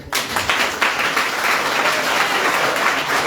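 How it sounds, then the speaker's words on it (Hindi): An audience at a public awareness event breaks into full, dense applause, many hands clapping together at a steady, loud level for about three seconds with no voices over it. "तालियां बजा लीजिए"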